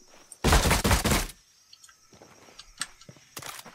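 Rapid automatic gunfire from an assault rifle in the video game Ghost Recon Breakpoint, one loud sustained burst near the start followed by scattered fainter shots and distant pops.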